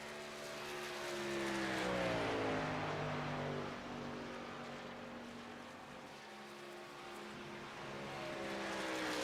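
Race truck engines in the iRacing game at Michigan International Speedway roar down the backstretch, several pitched engine tones sliding and overlapping at moderate volume with no talk.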